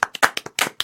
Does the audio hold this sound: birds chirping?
no